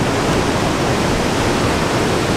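Roaring river and waterfall rushing below a suspension bridge at El Pailón del Diablo in Ecuador, a steady, dense wash of water noise filling the whole stretch with no talk over it.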